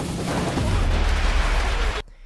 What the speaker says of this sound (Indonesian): dia meledakkan petasan mengelilingi mereka